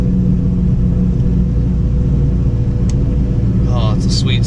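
A 2015 SS Camaro fitted with an Eaton TrueTrac differential rolls along a neighborhood street, its steady low engine rumble continuous and close, with brief faint chirps near the end.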